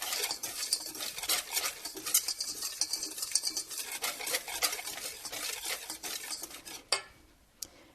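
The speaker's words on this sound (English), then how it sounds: "I'll give that a stir." Himalayan pink salt stirred into a dry mixture in a bowl for banana pudding and homemade vanilla wafers, with quick repeated scraping and clinking of a utensil that stops abruptly near the end.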